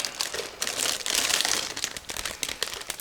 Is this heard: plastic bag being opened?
yes